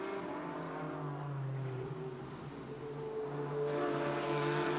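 In a sim racing game, a Ford Mustang and a Porsche Cayman run side by side, their engines producing a steady mid-level whine that rises and falls with gear changes and surges louder near the end.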